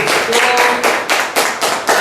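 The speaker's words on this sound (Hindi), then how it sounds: "इनके लिए एक बार जोरदार तालियां हो जाए" Sharp, close hand claps ring out in a quick, steady rhythm, about eight strong claps in two seconds, from an audience cheering a student speaker at a Louis Braille Day Braille-writing competition.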